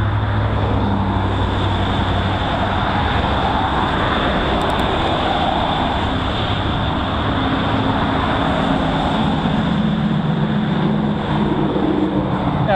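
Knobby tires on a 2018 Riese & Muller Charger GX Touring e-bike with wide 40mm rims hum at speed, heard as a loud, continuous drone and rush of riding noise with no voices.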